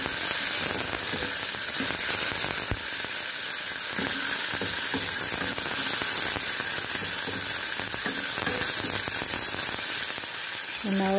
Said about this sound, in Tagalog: Nagigisa na tayo ng ating sibuyas.